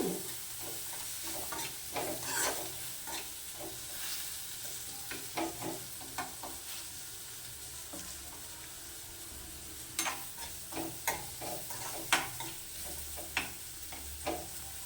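A tempering fries in a pan on low flame before bottle gourd pieces go in, giving a soft, steady sizzle with irregular spatula scrapes and taps. No one speaks.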